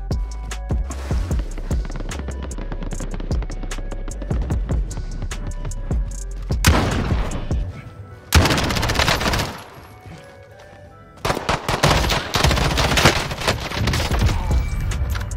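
Gunfire in Call of Duty Warzone: loud, close bursts of rapid automatic shots and sharp single cracks, broken by a brief quieter gap before heavy firing resumes.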